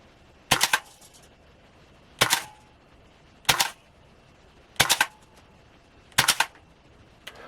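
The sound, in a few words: M4 rifle firing with new magazine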